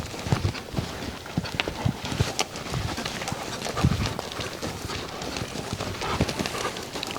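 A nervous mare trots on the ground, with steady, rhythmic hoof clip-clops at moderate distance and soft scuffing noise between the beats.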